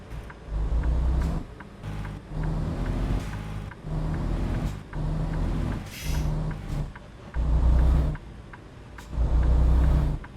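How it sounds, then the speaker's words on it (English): A semi-truck's engine brake in American Truck Simulator gives a deep, loud rumbling drone that pulses in repeated bursts about a second long with short gaps between them, with no talking. "That engine brake is a little odd."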